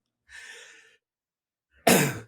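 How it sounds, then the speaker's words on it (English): A person with a persistent cough of several weeks makes a faint, breathy clearing, then after a pause gives one loud, harsh cough close to the microphone. "I've been coughing the last like 4 weeks, and I can't get rid of this hack."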